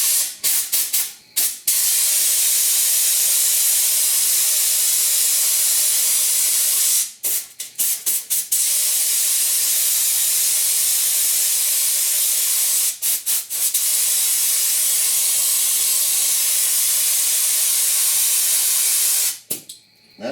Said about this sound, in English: I'm also a big proponent of back flushing with your finger on top of the air cap.